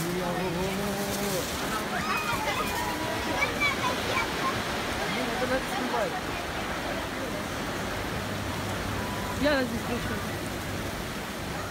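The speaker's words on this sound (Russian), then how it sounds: "Мы ждем, пока дождь закончится" Heavy rain and gusting wind of a hurricane at the seaside roar as a constant broadband wash, with people talking close over it.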